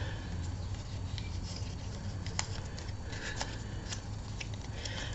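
Scissors cut paper for a pop-up back cover in papercraft, giving faint, scattered snips and rustles over a steady background hiss.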